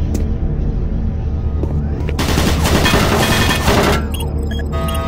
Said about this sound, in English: Warning, automated turret guns online.